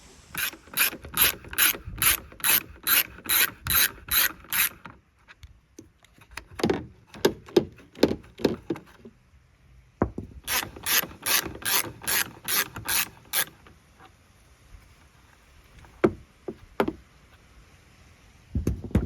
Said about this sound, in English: you're gonna take off these 10mm bolts